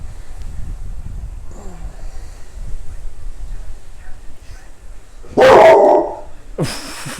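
Dogs, a Tibetan Mastiff and an AmStaff indoors, suddenly bark in two loud, close bursts after a quiet stretch, with faint sounds of a home beforehand.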